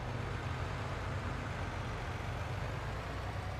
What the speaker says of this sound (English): It's a stock in-game truck,